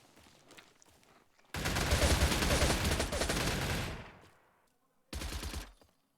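Sustained bursts of rapid gunfire in the video game StalCraft, set in a bar in a dead city, loud and dense for a couple of seconds, then a short final volley after a brief lull.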